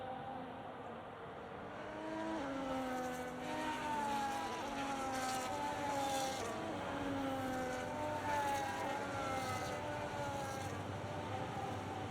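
Formula 1 race cars in a video game hold on the grid in Bahrain, several engines droning and revving together in overlapping rising and falling tones, steady and moderately loud, with no talking.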